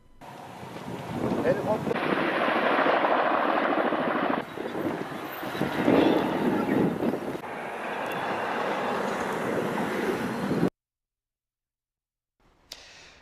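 Steady rotor roar of a firefighting helicopter with heavy wind buffeting, continuous and loud for about ten seconds, then a sudden cut to silence.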